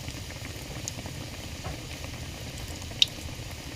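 Bora fritters fry in oil on a stove over low heat, a faint, steady bubbling sizzle with one brief sharp pop near the end.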